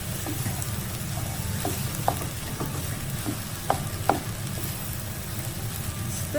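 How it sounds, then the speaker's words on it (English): Fried rice (nasi goreng) stirred in a pan with a scooping motion, giving a steady sizzle of frying under scattered scraping and clacking of the utensil against the pan, no voices. "Stir for 2 minutes using the scooping motion to heat the rice evenly, breaking up any rice clumps."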